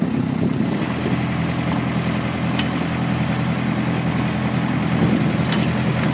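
Boat motor on the Admiral Benbow idling at relaunch, a steady low rumbling drone with an even, unbroken throb throughout, close and moderately loud with no talk over it.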